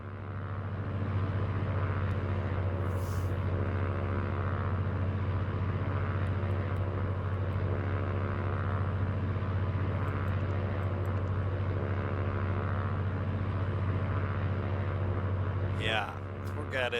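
Cessna-182Q propeller engine in Microsoft Flight Simulator 2024, a steady loud droning hum with harmonic buzz holding unchanged throughout, with a few faint clicks over it.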